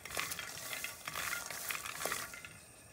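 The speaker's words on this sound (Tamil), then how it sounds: "அதில் நம்ம எடுத்து வச்சுருக்க நிலக்கடலை சேர்த்துக்கலாம்." Peanuts dry-roasting in a pan are stirred until the skins shrink and redden, giving a faint, close rattle and scrape of nuts against metal with soft repeated stirring strokes and no talk.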